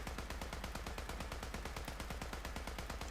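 A modded assault rifle in Fallout 4 fires on full auto, a fast, even stream of loud cracks lasting several seconds with no pauses and no voices.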